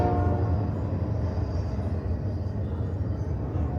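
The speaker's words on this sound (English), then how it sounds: "There goes the train." A train rumbles past close by, running alongside the Walt Disney Hometown Museum in Marceline, Missouri, a loud low rolling drone with a steady mechanical hum and no talking.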